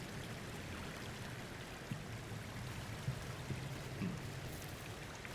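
A waterfall stream in the video game Cairn pours with a steady, dense rush of water, constant and fairly near, with a few faint knocks on top.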